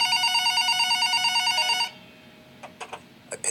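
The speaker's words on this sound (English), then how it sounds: "the phone on the counter rang." A telephone bell rings in a fast, steady trilling pattern for about two seconds and then stops. A few faint clicks follow, with no talk.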